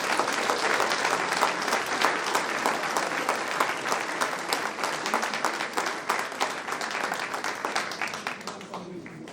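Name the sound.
audience applause for Augusta Oteïza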